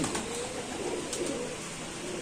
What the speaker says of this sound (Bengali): দর্শক এই কবুতর দেখাই দিই